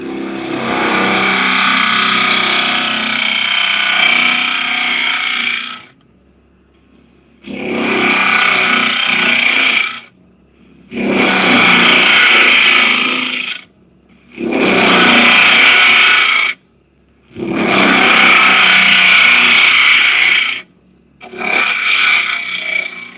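Cherry wood being hollowed on a lathe, a gouge digging out the bottom of the piece: five loud, close bursts of broadband scraping and cutting, each a few seconds long, with brief quiet gaps between them and no talk.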